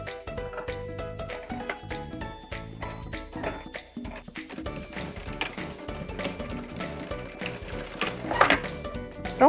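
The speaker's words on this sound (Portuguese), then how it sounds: "Aqui eu vou passar uma costurinha." A sewing machine runs a seam on a handmade bag, its rapid needle chatter steady and close, broken by a short pause and then resuming.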